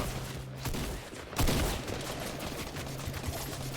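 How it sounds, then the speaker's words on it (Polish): Fortnite gunfire: a dense, noisy burst of shooting peaks around the middle, blended into a constant background wash of game sound, moderately loud. "Ej, drugi strzela do ciebie."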